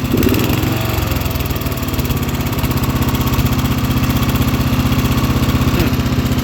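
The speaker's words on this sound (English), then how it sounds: "Now that we're warmed up, we're idling a bit high." A Wheel Horse 211-5 garden tractor engine, warmed up and idling a bit high, runs loud and close with a steady, even mechanical rumble throughout.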